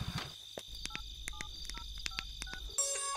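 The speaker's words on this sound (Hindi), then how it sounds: "अरे एकरो मोबाइल पे फोन लगाओ रे।" A sequence of short electronic keypad tones, about a dozen quick beeps at an uneven pace, followed by a brief ringing tone at the end.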